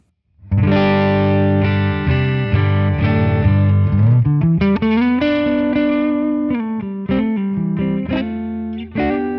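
Clean electric guitar on the neck pickup plays a sequence of notes and chords, the first ringing out long before quicker, articulate notes follow, with chorus-like shimmer.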